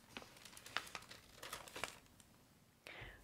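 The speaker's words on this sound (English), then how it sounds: "Fold it, cut it." Paper crinkles and rustles close by in quick, irregular bursts while being folded, followed by a brief scraping cut near the end, with no talking.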